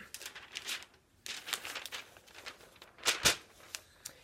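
A sheet of paper is unfolded and opened up: a series of dry crinkling and rustling bursts, close and moderately loud, with a sharper crackle near the end and no talking.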